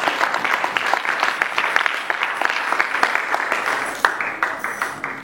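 A church congregation applauds together in a steady, dense clapping that carries on without a break, mid-loud and filling the room, with a brief swell near the end.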